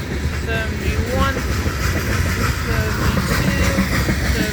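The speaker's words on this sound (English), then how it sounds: "That coal train was loaded, Jack." A loaded BNSF coal train rolls past at Callao, a steady close roar of railcars with wheel clatter and faint squeals, while a voice talks over it.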